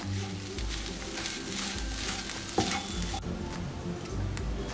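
Samosa stuffing seasoned with chaat powder and garam masala gets stirred in a pan: soft scraping strokes over a low sizzle, with one sharper knock of the spoon midway and a faint voice in the background.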